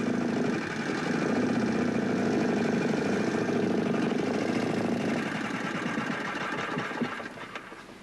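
An engine runs steadily at around 2000 RPM, a dense, even mechanical hum with a fast rhythmic pulse that holds for several seconds, then eases and fades toward the end, with no talking.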